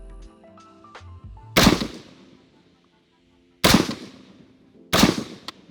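An AR-15 budget rifle, an Andro Corp ACI-15 Bravo 16, firing heavier Nosler .223 77-grain rounds outdoors: three loud, sharp gunshots spaced a couple of seconds apart, each with a short decaying echo, and no talking.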